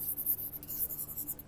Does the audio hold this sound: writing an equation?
yes